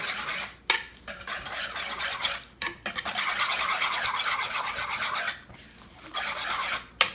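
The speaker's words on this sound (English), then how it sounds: "We're gonna start mixing that up." Eggs seasoned with pink salt and pepper are whisked in a bowl, a steady scraping, clinking stir running for several seconds with a few brief pauses, close and fairly quiet with no talking.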